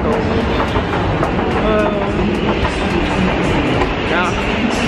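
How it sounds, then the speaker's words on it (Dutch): Train at Antwerpen Centraal station, a loud steady rumble of rail cars with rhythmic clickety-clack wheel beats close by, and a voice speaking over it. "Ik ben inmiddels op de trein in Antwerpen Centraal aangekomen."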